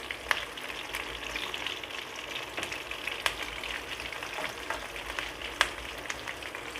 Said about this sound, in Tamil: இப்போ திருப்பி விட்டுக்கலாம்.